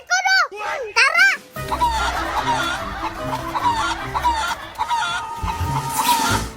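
Chickens cluck loudly and repeatedly up close, with one sharp squawk at the start, while a child and other people talk and shout excitedly alongside.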